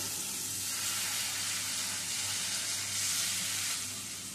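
A little water poured into spice paste frying in oil in a pan gives a loud, continuous hissing sizzle that holds steady throughout and fades slightly at the end.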